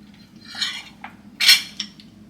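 A spoon mixes yogurt with honey in a bowl, giving a few quick clinks and scrapes against the bowl, with one sharper knock near the middle, close and fairly clear.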